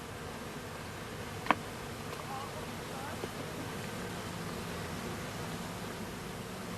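Honeybees buzz around a swarm box during beekeeping by annual rotation, a low, steady hum of many insects at moderate distance with one brief sharp knock early on.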